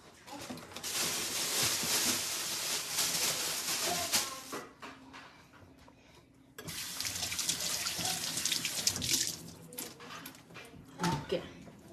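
A kitchen tap runs hard while something is washed under it: two loud, close bursts of gushing water split by a short quieter pause, with a voice faintly audible in the background.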